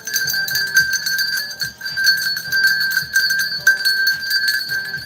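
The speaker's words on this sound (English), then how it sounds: "Let me get the bell. Look, I got a small bell for the live." A small handheld bell rings steadily and close by, its bright, shimmering tone sustained through the whole stretch with a faint rhythmic pulse underneath.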